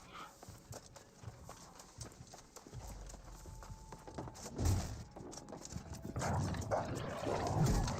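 A hostile dog creature in the video game New World growls and barks among busy game sounds, with hoof-like clip-clop footsteps and combat noise building louder toward the end.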